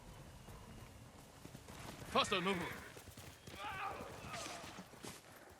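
A horse's hooves clip-clop in the Ghost of Tsushima video game, a quick burst of close, fairly loud hoofbeats with a second, softer patch of movement shortly after, over a quiet game background.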